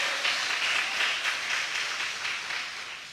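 A congregation applauds together during a Sunday evening church service, giving a steady, dense wash of clapping that holds at an even level throughout with no voices over it.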